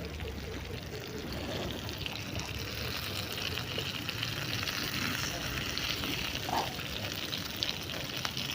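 Red snapper (chempalli) rava fry sizzles in oil in a pan after being flipped. The frying crackles steadily and densely up close for the whole stretch, with no break.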